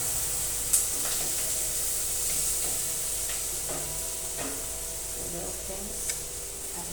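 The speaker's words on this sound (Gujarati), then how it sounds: "આ રીતે ડુંગળી સકડાય છે તેલમાં મસ્ત" Onions fry in oil in a pan for a home-cooked vegetable dish, giving a soft, steady sizzle with light stirring scrapes and a few clicks over a faint background hum, and no talking.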